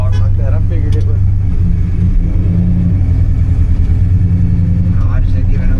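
A truck engine runs on a dyno in the lowest gear, a loud steady low rumble that bogs down rather than revving cleanly, with voices talking over it.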